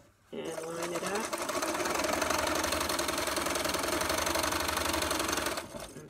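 A sewing machine stitches fabric in one continuous run lasting several seconds, a close, steady, rapid mechanical hum with even rhythm that starts abruptly and stops near the end.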